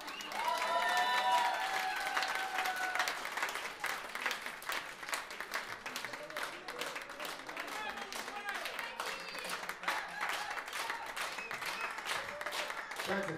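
Steady applause from an audience fills the whole stretch, dense clapping at an even level with a few brief cheering tones early on.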